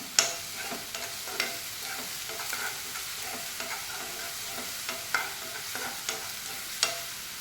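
Onions frying with a ground paste of green chilli, ginger and garlic, a continuous sizzle under repeated sharp scraping stirs of a spoon against the pan, close and fairly even, no talking.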